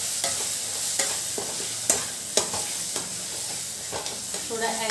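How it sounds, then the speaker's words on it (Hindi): Tomatoes being stirred and pressed with a spoon in a pan for Indian chokha, steady sizzle with repeated scraping clacks every second or so, close and alone. "थोड़ा ऐसे प्रेस करते हुए चलाएंगे कि टमाटर जो थोड़ा बहुत रह गया होगा वो अच्छे से गल जाए"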